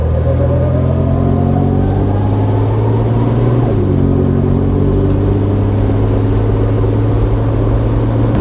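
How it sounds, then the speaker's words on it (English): A 1974 Volvo 164e rides on new wheels and tires, its engine a steady low drone with a loud, continuous cabin rumble, rising gradually before a brief shift and then settling again. "It drives so much better with the new wheels and tires"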